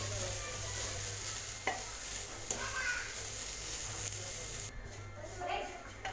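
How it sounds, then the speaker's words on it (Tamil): Grated coconut lightly dry-roasting in a pan on low flame, soft hiss with intermittent spatula stirring and scraping, close by and fairly quiet. "லோ ஃப்ளேமில் வச்சு லேசாக வறுத்துக்கலாம்."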